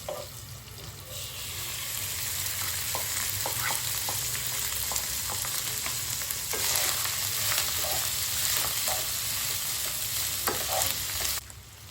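Rice for jeera rice fries in a hot pan and is stirred, making a continuous close sizzle broken by repeated scraping and clicking strokes from the utensil, with no voices.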